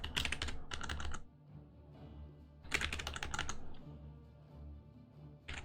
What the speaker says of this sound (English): I'll start typing these heroes in as soon as